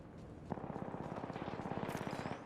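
Rapid automatic gunfire from the video game Apex Legends rattles in a fast steady burst of evenly spaced shots, fairly faint in the mix, with a single sharper shot early on.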